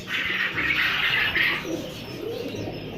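Golden breed pigeons in a breeding setup coo softly and nearby, with low murmuring calls over a faint steady background hum.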